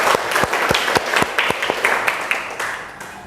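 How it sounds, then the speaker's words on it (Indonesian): Classroom students applaud a classmate after a presentation in a high school chemistry lesson, a loud, close, steady burst of many hands clapping with rhythmic accents, tapering slightly toward the end. "tepuk tangan untuk teman kalian"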